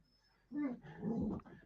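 Rosie, a dog, gives a short whimpering, grumbling vocalization near at hand, two soft whiny bursts after a brief quiet.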